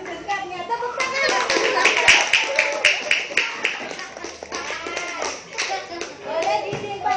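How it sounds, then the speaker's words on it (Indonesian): A class of children claps hands together during a classroom lesson, bursts of close, sharp claps over a few seconds mixed with a teacher's and kids' voices. "Tepuk tangan."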